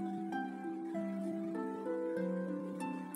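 Soft harp music from the 3DS version of Dragon Quest VIII: gentle plucked notes step along a slow, quiet melody over sustained low tones.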